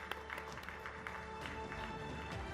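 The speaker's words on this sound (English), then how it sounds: "Big round of applause, ladies and gentlemen." Audience applause at a live women's event in India, a fairly faint, sustained spread of clapping at a distance with scattered louder claps.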